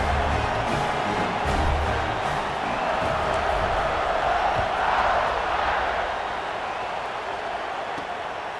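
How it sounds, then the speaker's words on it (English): A stadium crowd in a college football video game buzzes after a touchdown on senior night, Notre Dame against Texas, a steady wash of distant murmuring and cheering that slowly fades. "this crowd is buzzing after that last score"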